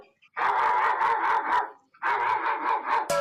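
A voice imitates a barking dog with two rapid runs of loud, rhythmic bark-like huffs, separated by a short pause.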